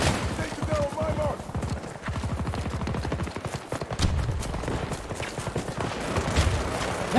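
Rapid gunfire in the shooter Battlefield 2042, dense repeated bursts rattling loudly through most of the stretch, mixed with explosions and game noise while voices talk over it.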